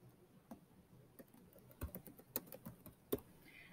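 A name is typed on a Chromebook keyboard: soft, close key clicks come in an uneven patter, sparse at first and then quicker, over a quiet room.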